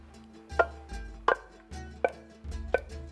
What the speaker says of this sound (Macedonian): Ќе го изгребам целото тенџере.